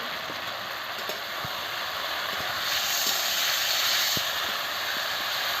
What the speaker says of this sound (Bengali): আমি আলুটা দিয়ে মশলার সঙ্গে ভালো করে কষিয়ে নিচ্ছি